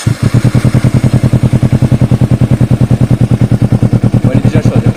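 A Kawasaki Ninja 300 motorcycle engine idles up close, already warm, in a loud, steady rapid thumping pulse that stays even throughout, with no talk over it.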